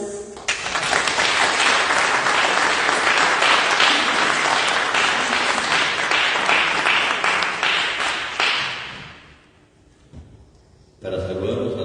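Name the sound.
applause at award ceremony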